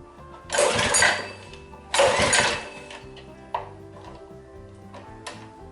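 A Massimo MB200 mini bike engine being cranked, with two strong grinding starter bursts that fail to catch, followed by a few fainter ticks and clicks.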